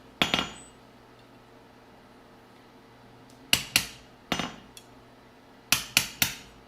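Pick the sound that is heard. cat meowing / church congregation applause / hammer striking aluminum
hammer striking aluminum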